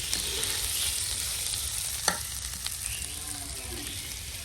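Potatoes frying in a pan with onion and spices, a steady close sizzle under occasional scraping of a spoon as the mixture is stirred, with one sharp clack partway through.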